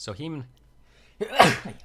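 One sharp, loud sneeze bursts out close by during a Duel Masters card game tournament stream, coming right after a short stretch of speech.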